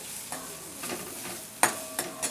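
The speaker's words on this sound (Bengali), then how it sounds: "হাফ চামচের মতো ধনের গুঁড়ো দিচ্ছি আর হাফ চামচের মতো জিরের গুঁড়ো এবার এটাকে দিয়ে ভালো করে কষিয়ে দিতে হবে" Ground coriander and cumin stirred in a hot pan, with a soft sizzle under scraping spoon strokes and a few sharper clinks against the metal, close and fairly quiet.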